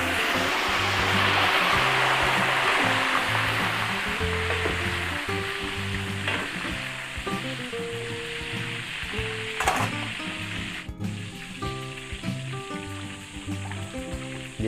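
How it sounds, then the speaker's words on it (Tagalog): Potatoes and carrots sizzle loudly in hot oil, the crackle fading slightly over time, with music playing underneath. "At tapos prito rin po tayo ng patatas and carrots."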